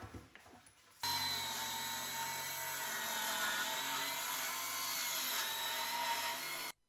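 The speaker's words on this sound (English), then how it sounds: "make this cut on the miter saw" A miter saw cuts through a 1x12 board, starting abruptly after a brief moment of quieter noise and holding a loud, steady, high-pitched whine for about six seconds before stopping sharply.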